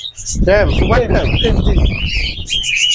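Lutino cockatiel chirps and calls ring out repeatedly, high and close, among cockatiels with chicks, mixed with people talking nearby.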